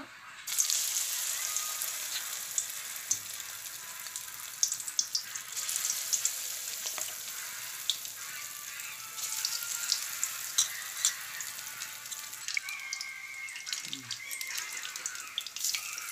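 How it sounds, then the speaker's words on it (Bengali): Steady crackling sizzle of soya chunks frying in hot mustard oil, continuous throughout with occasional sharper pops and a few soft clinks of stirring, no talking. "এবার সয়াবিনগুলো আমি আস্তে আস্তে ভেজে নেব।"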